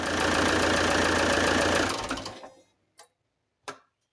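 A loud, rattling car engine runs and then shuts off, winding down into silence, followed by two faint clicks.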